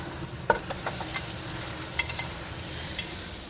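Chicken frying in a pan for aloo gosht gives a steady bright sizzle up close, broken by a few sharp ticks and spatters, with no talking.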